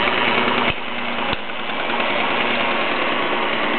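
A Mamod toy steam engine runs steadily, giving a continuous close, even chugging that carries on without pause, broken only by two brief sharp clicks early on.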